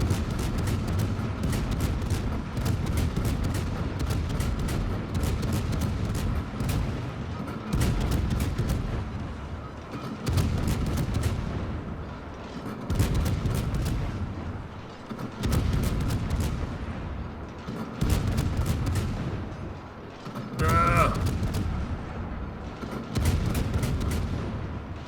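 Naval cruiser guns in World of Warships, the French tier-10 cruiser Colbert, firing in rapid, regular volleys, each sharp crack followed by a rumbling boom, repeating steadily throughout.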